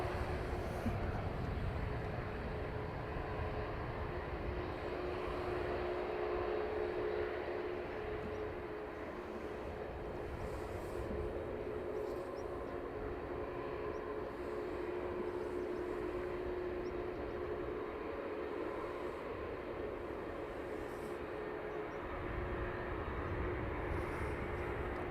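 An airliner arriving on the north runway at Dublin Airport, a distant, steady low jet roar with broadband rumble lasting throughout.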